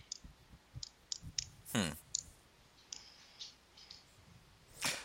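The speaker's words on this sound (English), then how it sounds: "What is that noise? It's my pen." A pen clicks repeatedly in short, sharp, irregular taps during a quiet conversation indoors, close to the microphone, with a couple of louder rustling bursts between clicks.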